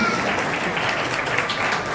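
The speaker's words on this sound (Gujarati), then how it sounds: "આપણે બધા તાળીઓનો ગડગડાટ ચાલુ રાખીશું" A crowd claps continuously at a religious kalash puja gathering while a guest is welcomed: thick, even applause that stays loud and sustained from start to finish with no break.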